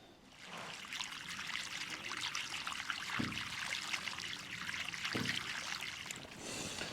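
Water rushes steadily from a 4-inch drain in a wildlife pond after the plug is pulled, a continuous close gushing and trickling with a couple of brief gurgling surges.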